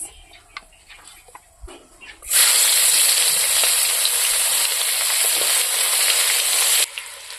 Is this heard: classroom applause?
no